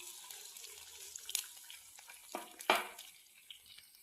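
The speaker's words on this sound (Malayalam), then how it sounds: "ഇനി ഇതിനകത്ത് കുറച്ച് വെള്ളം ഒഴിച്ചു കൊടുക്കാം." Water poured into a cooking pan holding fried ginger, a short splashing gush with a brief hiss, fairly quiet and close, with no speech.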